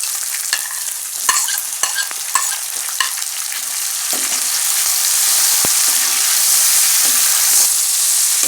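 Tomatoes frying in a dal tadka, a loud steady sizzle that swells after they go in, with sharp utensil knocks and stirring scrapes early on, no voices.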